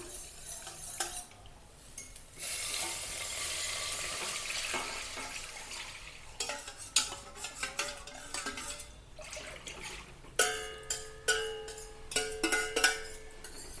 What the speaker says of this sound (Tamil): இப்போ நம்ம கரைச்சி வச்சுருந்த மாவு வந்து இந்த நெய்யிலே சேர்த்துடலாம்